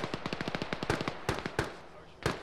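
Rapid bursts of small-arms gunfire crackle in a military shooter game, sharp irregular shots in quick strings followed by a few spaced single cracks, with no talking.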